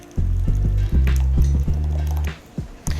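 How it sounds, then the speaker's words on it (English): Cold gazpacho soup is poured into a bowl, thick liquid glugging and squishing in several uneven bursts with short pauses between, close and clear with no talking. "So you're just going to pour this into a beautiful bowl."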